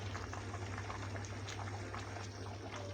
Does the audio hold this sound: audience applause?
no